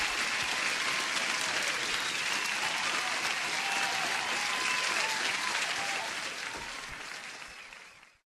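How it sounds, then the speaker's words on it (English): A soundboard applause effect plays a dense, even crowd clapping with some cheering, loud and constant for several seconds before fading quickly to silence. "Let me give you an applause if I would have my soundboard started"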